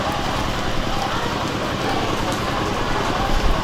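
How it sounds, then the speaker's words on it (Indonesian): Heavy rain pours steadily over an outdoor stage-play performance, a dense, continuous hiss of drops drumming on tents and surfaces close by, with a voice faintly audible beneath the downpour. "Inilah kita guys, sangat-sangat hujan guys."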